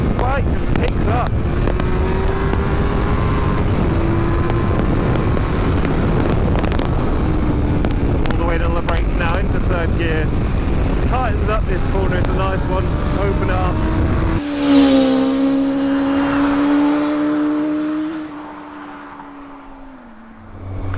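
A 1998 Yamaha Fazer 600 motorcycle is ridden hard, its engine note climbing in pitch as it accelerates under heavy wind rush, then shifting sharply before the sound fades and the wind eases.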